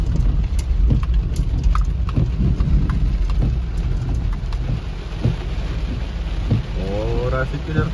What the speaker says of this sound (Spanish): Ha llovido bastante para acá. Miren, pura agua ahí por.